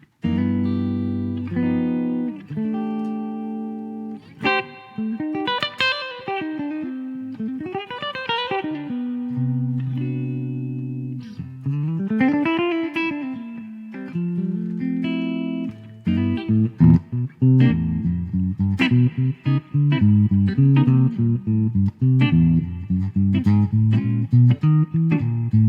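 Warm, clean electric guitar, a Gibson 335 through an amp simulator, playing jazzy chords and single-note lines, with slides and bends, played alone with a smooth amplified tone.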